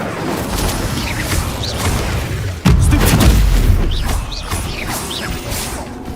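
Incendio fire spell cast in the video game Hogwarts Legacy, a sudden loud boom around mid-clip followed by roaring, crackling blast noise over ongoing combat effects and whooshes.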